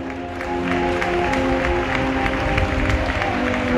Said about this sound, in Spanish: ¡Un fuerte aplauso a nuestras modelos!